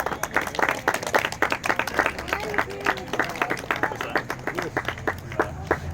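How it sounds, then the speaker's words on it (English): Applause from a small gathering at a scout crossing over ceremony, dense steady clapping for about six seconds with some voices mixed in underneath. "First round of applause"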